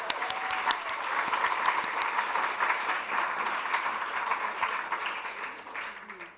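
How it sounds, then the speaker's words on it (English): Audience at a literary event applauds author Jojo Moyes, a full round of clapping from a sizeable crowd at moderate distance, steady for about six seconds before fading out. "So a round of applause for Jojo."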